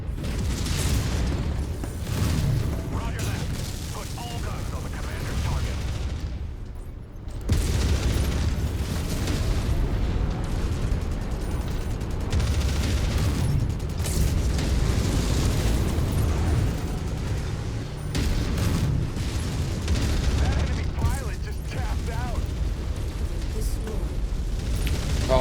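Mech weapons fire and explosions in the video game MechWarrior 5 rumble as a dense, continuous barrage of booms and bursts, broken by a brief lull midway, with radio voices talking over the din.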